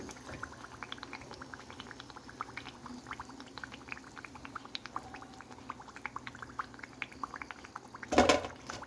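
Plantain bajji frying in hot oil, a steady faint crackle and sizzle of many small pops running throughout, with a brief louder clatter near the end.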